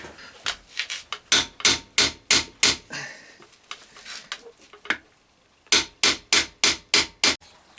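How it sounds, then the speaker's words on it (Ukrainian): Sharp metallic hammer blows ring out in quick rhythmic bursts on a pipe held against a rusted steering arm on a classic VAZ steering knuckle, a scraping pause in the middle, then another run of loud strikes. "Зверху труба і молотком лупашу ось сюди по старій васовській технології"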